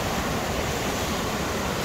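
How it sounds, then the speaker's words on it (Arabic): Rough, churning sea surf at Saïdia beach after floods makes a steady, dense wash of breaking waves, continuous and fairly distant, with some wind rumble on the microphone and no voices. "شوف شوف المواج"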